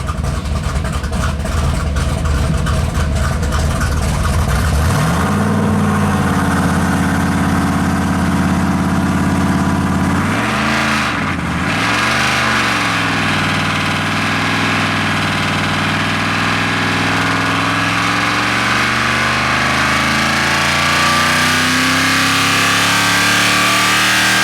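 Mopar 451 big block stroker V8 running on a dyno, loud and close, winding up through sweeping revs with a dip and recovery midway, then holding a rising, sustained roar.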